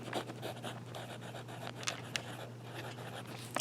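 A Kaweco Sport fountain pen with a medium nib scratches across paper in steady, close strokes, soft continuous scraping with a few sharper ticks, over a low constant hum.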